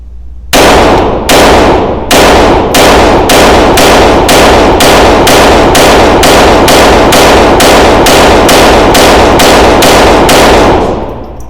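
A Sig P322 pistol fires a rapid string of very loud shots running Federal Auto Match ammunition, about twenty evenly spaced sharp cracks in quick succession with no pauses.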